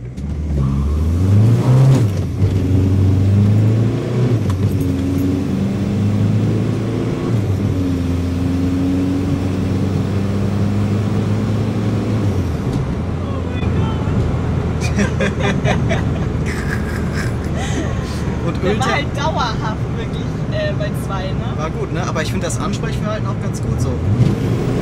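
A tuned diesel VW Golf accelerates hard from 0 to 100 km/h, a loud continuous engine drone rising through the gears, with people talking over it inside the car.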